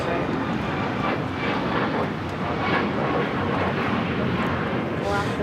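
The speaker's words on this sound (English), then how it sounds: "This is Alaska Airlines 465 taking off to Los Cabos on the MAX 9." An Alaska Airlines Boeing 737 MAX 9 taking off at LAX produces a sustained powerful jet roar with broad rushing noise, steady and loud throughout, with a little background chatter.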